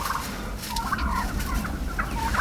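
A wild turkey tom strutting in the woods during a bow hunt gobbles in a few rattling bursts, fairly close and clear over soft outdoor background noise.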